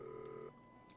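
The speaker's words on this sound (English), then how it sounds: "they let you just click on the phone number to dial it instead of manually dialing 15-digit phone numbers" Tones of a phone number being dialed in a Nancy Drew video game, a short steady dial tone that cuts off halfway, followed by a faint beep.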